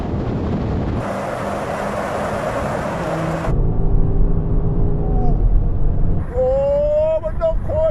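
BMW M5 cars drag racing, a blur of engine roar and wind rush with a shift in tone midway, then a rising whine of an engine revving, with voices mixed in.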